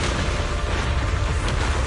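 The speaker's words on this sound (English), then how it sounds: "Move in during the gaps between explosions." Continuous heavy rumbling blasts in the video game Zenless Zone Zero, a dense roar of booming explosions with no pauses, loud and close, with no voices.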